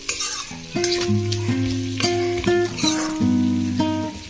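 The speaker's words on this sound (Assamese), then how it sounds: "এতিয়া লাৰি থকা ভাজি থকা" Close sizzling and crackling of food frying in a pan, with repeated scraping stirs at a steady rhythm and no voices.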